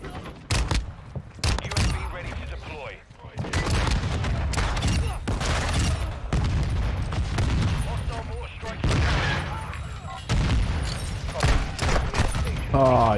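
Rapid gunfire from a Fennec weapon in Modern Warfare 2 comes in repeated loud bursts and single shots, with game explosions and mechanical sounds, while a player talks.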